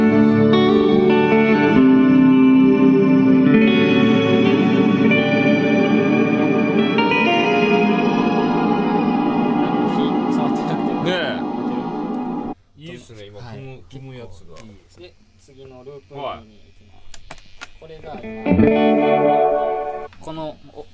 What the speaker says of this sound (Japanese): このオーバードライブとディレイとリバーブが入って る